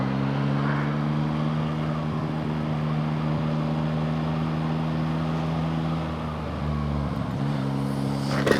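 Yamaha MT-09 Y-AMT motorcycle under way, its three-cylinder engine holding a steady, close drone with strong low harmonics, dipping and rising briefly near the end as the rider changes pace, with constant road and wind rush.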